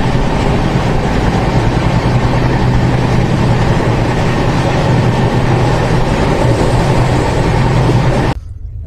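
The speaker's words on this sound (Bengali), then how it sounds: "আজকে এখন আমরা ট্রেনে আছি" Continuous loud rumble and rattle of a moving train heard from inside an AC 2-tier coach, a dense steady roar throughout that drops off sharply near the end.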